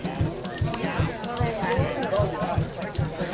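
An 1890 steam engine driving mill belts runs with a steady rhythmic thumping beat, about two strokes per second, amid clattering machinery noise, with people talking nearby.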